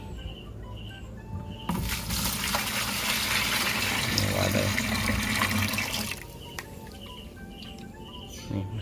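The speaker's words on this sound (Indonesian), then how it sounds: "Saya akan taruh juga ini air leri atau air cucian beras." Rice-washing water pours into a container for making homemade organic fertilizer, a loud continuous gushing splash lasting several seconds before stopping, with quieter handling sounds around it.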